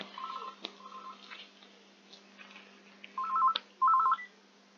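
A telephone rings in short warbling electronic bursts: two rings near the start, then two louder ones toward the end, separated by quieter background sound.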